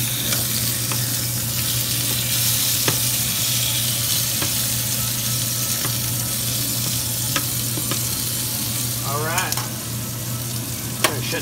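Zucchini frying in a pan gives a steady, close sizzle throughout, with a few sharp clicks and a brief scraping flip of the pieces near the end.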